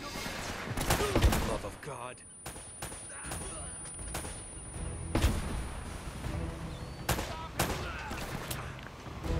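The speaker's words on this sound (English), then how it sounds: "Good shooting, Nate" Gunfire in the Uncharted action game, with repeated close rifle shots and bursts that crack sharply at irregular intervals throughout, over layered combat sound.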